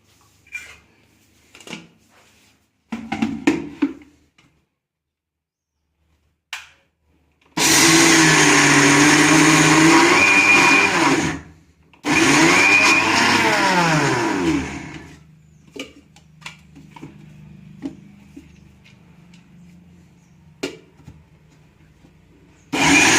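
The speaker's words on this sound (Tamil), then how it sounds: "இப்போ வெறும் பருப்பு கொஞ்சம் ஒன்று ரெண்டாக அரைக்கிறேன்" An electric mixer grinder roars loudly while grinding soaked urad dal to a coarse texture. It runs in two sustained bursts of whirring and grinding, surrounded by quieter clatter and handling noises.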